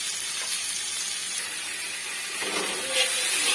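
Steady hiss and sizzle of chopped tomato frying lightly with chicken in a pan for chilli chicken, a continuous even crackle with no talk.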